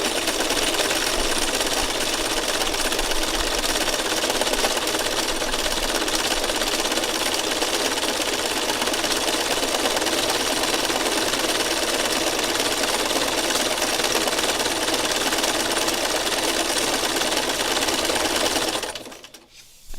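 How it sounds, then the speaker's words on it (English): A sewing machine runs fast and continuously through free motion stitching, a loud, even mechanical whir that holds for most of the stretch before stopping abruptly near the end. "It's kind of like that with free motion stitching."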